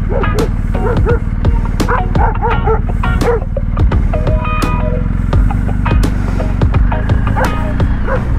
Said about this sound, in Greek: Σκυλάκια.